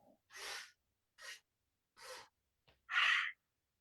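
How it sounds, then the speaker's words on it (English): Several short open-mouthed exhalations during a guided breathing exercise, soft and close, spaced about a second apart with the last breath the strongest. "exhale with your mouth open, bending down"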